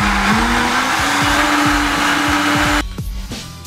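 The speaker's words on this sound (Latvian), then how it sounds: "Un kārtīgi to visu sablenderējam." A blender whirs loudly at high speed, mixing pineapple juice, banana, mango and melon in a steady motor whine that drops in pitch and stutters as it shuts off near the end.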